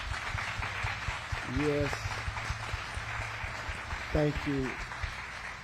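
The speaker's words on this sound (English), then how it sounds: "let's give them a big round of applause" A round of applause from an audience at a housing showcase event, steady clapping throughout at moderate level, with brief spoken voices over it.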